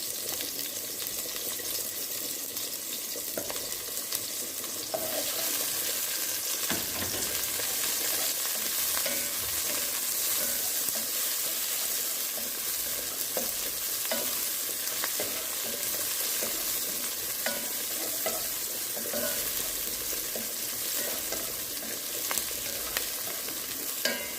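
Onions, garlic and Scotch bonnet peppers sizzle steadily in a pan, a constant close frying hiss with occasional stirring scrapes throughout.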